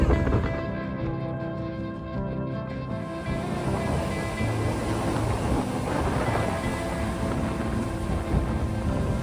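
Sea waves rolling onto Dhanushkodi beach near Rameshwaram, a constant loud wash of surf with wind buffeting the microphone close by.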